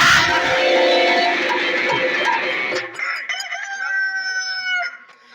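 A rooster crows loudly and close in a long drawn call, set within a Chenchu Natakam folk theatre performance, followed by fainter bird-like calls and clucks.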